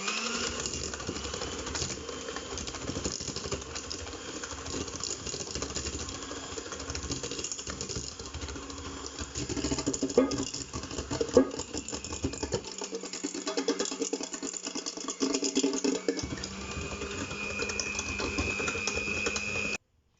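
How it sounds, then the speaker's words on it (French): Electric hand mixer beating sugar and butter for beignets soufflés, a steady close whirring drone with a faint rattle that runs without pause for about twenty seconds, no talking. "Et on va mélanger avec un batteur que voici. Donc, on va mélanger d'abord le sucre et le beurre."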